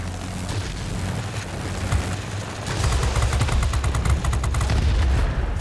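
An aircraft machine gun in the World of Warplanes combat game fires in a long rattling burst that grows denser and louder partway through, over a steady engine roar, with no talk.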